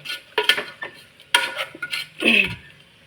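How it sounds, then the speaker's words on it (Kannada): Tomato mixture for tomato bath cooking in a pan, heard as close, uneven bursts of a spoon stirring, scraping and clinking against the pan over a faint background sizzle. "ಚೆನ್ನಾಗಿ ಫ್ರೈ ಆಗಿಬಿಡಲಿ ಇದು ಹಸಿ ವಾಸನೆ ಅಷ್ಟು ಹೋಗಲಿ ಸ್ವಲ್ಪ ಟೊಮೊಟೊ ಎಲ್ಲ ಫ್ರೈ ಆಗಲಿ"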